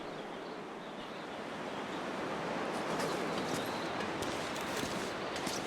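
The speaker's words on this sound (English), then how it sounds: "Well, it does sound like it's pretty windy" Steady wind blows outside in The Long Dark survival game, a broad, continuous rushing roar that swells slightly louder partway through and holds without talk.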